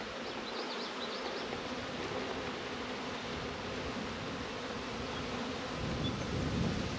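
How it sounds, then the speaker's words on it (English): A dense, steady buzzing of many bees fills the clip continuously, close by, with no talking. "this is just a small amount of bees at a time here"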